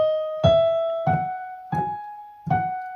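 Four evenly spaced piano notes, each a bright struck tone that rings and decays before the next, played alone at a moderate pace.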